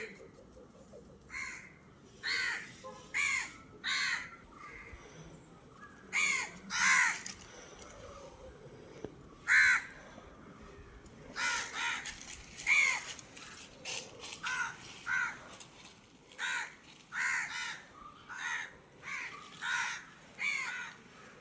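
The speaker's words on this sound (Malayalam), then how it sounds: "കാക്കകളെ പോ." Crows caw again and again in short harsh bursts, some single calls and some quick doubled ones, from nearby against a quiet outdoor background.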